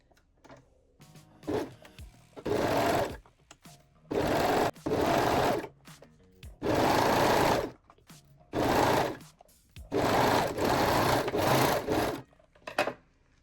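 A sewing machine stitches the long edges of a lingerie crotch piece for panties, in about seven close, even bursts of rapid whirring, each run separated by short quiet pauses.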